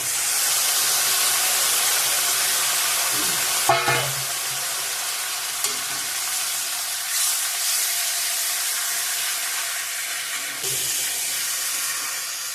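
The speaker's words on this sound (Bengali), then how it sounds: "ফোড়নটা চিকেনটা দিয়ে দেবো এখন" Chicken sizzles steadily in hot oil with tempered spices and tomato, a constant bright hiss broken by a few clinks and scrapes of stirring.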